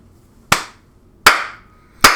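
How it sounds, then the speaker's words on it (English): Three sharp, isolated hand claps ring out close by, evenly spaced about three-quarters of a second apart, each a crisp loud snap with a short decay and near silence in between. "This deserves a round of applause"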